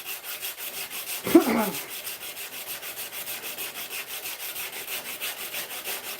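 Hand sanding of a knife blade gives a fast, even back-and-forth rasp in steady strokes, close and fairly quiet, with a brief knock near the start.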